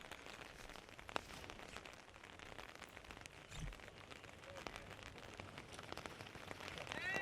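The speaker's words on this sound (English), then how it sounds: "it's raining on a Thursday afternoon" Steady rain falls on a Thursday afternoon during the first round of a disc golf tournament, a dense even patter that continues alone with no voices.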